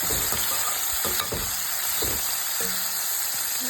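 Salted greens frying in a pan crackle with a constant bright sizzle, while a utensil stirs through them in several separate scraping strokes at close range; no voices.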